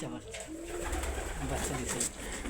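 Mookhi and local pigeons on a farm coo steadily at close range, a low rolling murmur that persists throughout with a person talking faintly underneath.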